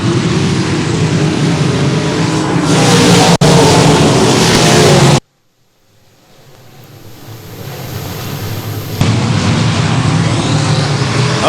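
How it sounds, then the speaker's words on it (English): Pro Mod race cars roar through the opening lap at Boothill Speedway in a loud, steady wash of engine noise. It cuts out abruptly, then swells back to full volume. "Opening lap of the Pro Mod main event in the turn number 3."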